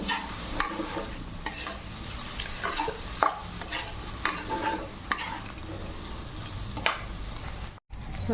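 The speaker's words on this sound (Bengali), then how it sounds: "দেখো আলুটা ভাজা ভাজা হয়ে গেল" Boiled potatoes fry with spices in a hot pan: an even sizzle runs under frequent spatula scrapes and stirring clatter, close and fairly loud, with a brief dropout near the end.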